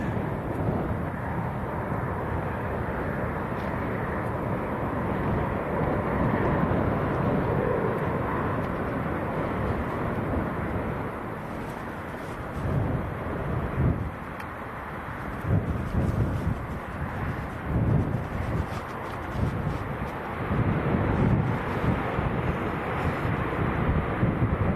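An airplane at Leeds Bradford Airport on a freezing day gives off a steady, continuous engine roar, broad and rumbling for the whole stretch, with gusts of wind buffeting the microphone.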